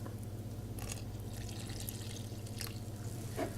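Milk and then water poured into a bowl while making burger bun dough: a soft, steady liquid trickle with faint splashes and drips, fairly quiet and close, with no talking.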